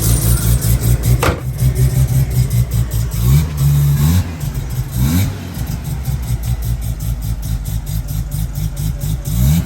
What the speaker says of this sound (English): we're gonna move the cars and try and go drive the cars